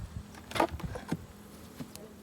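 Honey bees at an open beehive, a few short buzzes whizzing close past the ear amid soft handling noises, faint and intermittent.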